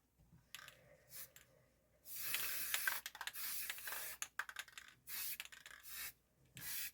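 Aerosol paint sprayed onto a motorcycle helmet during a DIY restoration, heard as several hissing bursts of varying length separated by short pauses, close and fairly quiet, with no talking.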